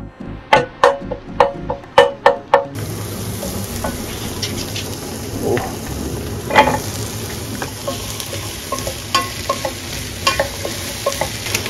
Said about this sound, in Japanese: で、野菜も残り入れて炒めると